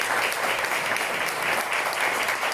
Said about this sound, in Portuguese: eu queria pedir para vocês uma salva de palmas para o IEP